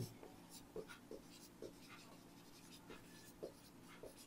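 Marker or chalk scratches on a classroom board in brief repeated strokes, faint and close, under a low background hum.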